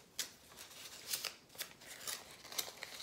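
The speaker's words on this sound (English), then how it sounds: "I fold it over the edge of the paper, crease it, open it up, and then open this pocket with my fingers" Origami paper being folded and creased by hand, a series of soft, crisp crackles and sharp swishes spaced irregularly, close and quiet with no voices.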